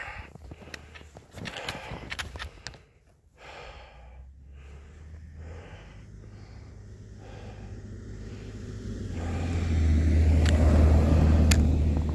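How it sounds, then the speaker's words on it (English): A car approaches and passes on a dark road at night beside a hiker climbing a big hill in cold weather near Parry Sound, Ontario, its low rumble swelling to a loud close pass at the end over footsteps and breathing. "Comes a car."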